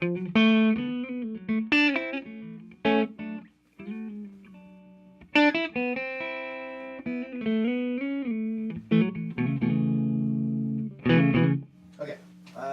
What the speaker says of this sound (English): that's our clean tone in the neck position of this wonderful Jazzmaster